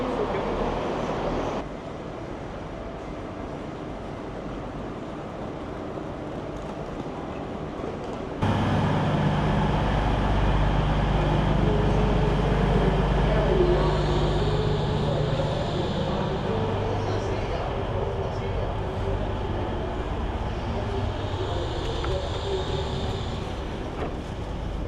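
Train at a station platform, a low continuous rumble that swells louder partway through, then steady hum with faint hiss and clatter, with no clear talk.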